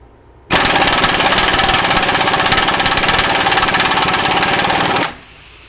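A Myers MTS53371 air impact wrench runs in reverse at around 800 foot-pounds, a loud, rapid hammering rattle that starts abruptly, holds steady for about four and a half seconds, then cuts off.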